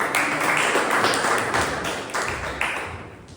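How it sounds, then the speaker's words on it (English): Toastmasters club members applaud at a meeting, a room of clapping hands that starts full and gradually thins and fades, with a few louder individual claps standing out near the end. "Toastmasters, a big round of applause."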